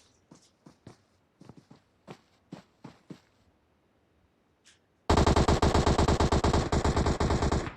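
Video game match with scattered footsteps and short shots at first, then a sudden loud sustained burst of rapid automatic gunfire that runs to the end without talk.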